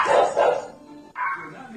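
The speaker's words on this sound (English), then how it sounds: "a little dog barking" A small dog barks close by: two quick yapping barks, then a pause and a higher, whiny yip.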